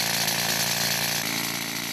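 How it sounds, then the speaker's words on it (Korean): A rock drill bores holes into hard marble at a quarry, a loud, steady, harsh mechanical roar with rapid percussive chatter, continuous and close throughout. "측량이 끝나면 특수장비 차감기로 암석에 구멍을 뚫기 시작한다."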